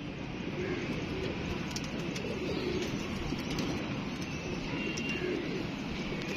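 Pigeons coo steadily through the whole stretch, a female among them caught from a net, with low continuous murmuring and faint background noise.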